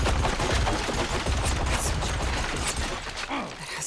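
Dense, loud gunfire in Horizon Forbidden West, heard as a continuous rattle of overlapping shots and impacts with a few sharper cracks. Voices come through faintly beneath the shooting.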